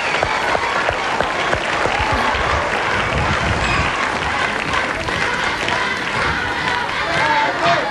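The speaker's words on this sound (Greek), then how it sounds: "Το χειροκρότημά σας για τον Σταύρο και την Τάντα" A studio audience at the 2004 Super Idol final applauds the two finalists, loud continuous clapping with crowd noise and a few cheers sustained across the whole stretch.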